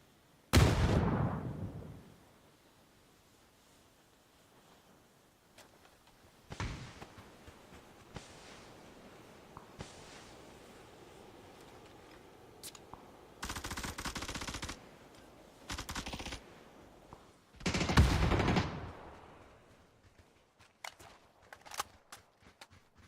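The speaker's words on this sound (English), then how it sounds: "He's just burst firing a barrel" Bursts of automatic gunfire in the PUBG battle royale video game, several short volleys spread across the stretch with quieter gaps between, some bursts sharp and loud, others more distant.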